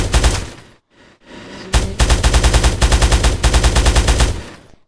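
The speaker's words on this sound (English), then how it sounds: "Next one is rifle ammo, which like shoots your like little minigun" Minigun from a Minecraft mod firing rifle ammo in loud, rapid mechanical bursts, a brief spin-up, then sustained rattling fire alone, with no voices.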